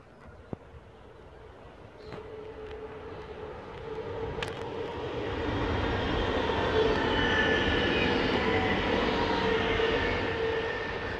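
A train passes at a Dutch trainspotting spot, a rumble that builds from faint to a loud, sustained roar over several seconds with no talking.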